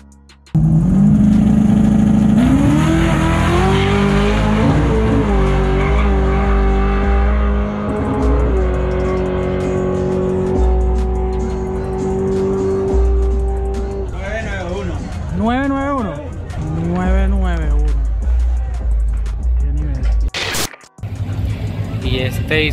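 Drag racing cars, a Mustang and a Fox, rev and accelerate hard down the strip at a Turagua Mustang Day event, with loud rising engine tones, shifts and tire squeal while people talk over the roar throughout.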